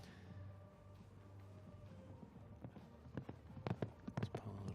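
Horse hooves clip-clop faintly over soft arena ambience at a children's 1.30m team show jumping final in Hagen, the footfalls growing more distinct and rhythmic toward the end.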